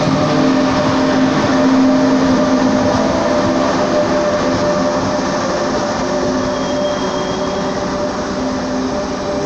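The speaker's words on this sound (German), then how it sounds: "Und der Zug fährt auch wieder." An Italian high-speed train rolls along steadily with a loud, continuous rumble and humming tones, wheels grinding on the rails close by, no voices.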